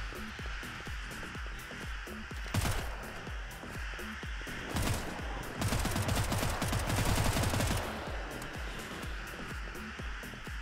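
An SMG fires in repeated bursts at demons in the video game Hellbreach Vegas, rattling shots that grow denser and louder in the middle.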